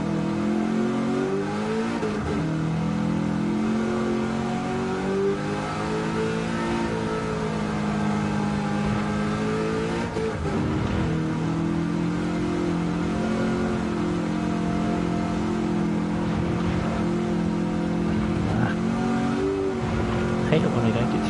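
A race car in a racing sim, a Mustang in touring-car trim, holds a steady engine drone with shifting pitch throughout, under continuous talk.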